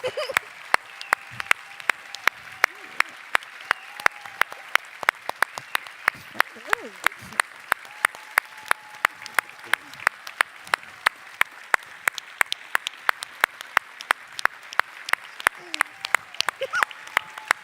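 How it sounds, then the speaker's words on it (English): Sustained applause from an evening gala audience honoring teachers, steady dense clapping throughout with a few voices and cheers mixed in, fairly close and lively. "Can we just give a big round of applause to all of the teachers either here tonight or watching on YouTube for their dedication to our scholars?"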